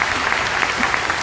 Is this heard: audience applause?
yes